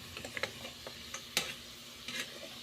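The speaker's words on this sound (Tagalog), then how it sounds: "atin lang pong halu-haluin muna" Pork adobo with galyang being stirred in a pan: a scatter of light clinks and scrapes from a utensil over a soft, steady sizzle, quiet and close, with no speech.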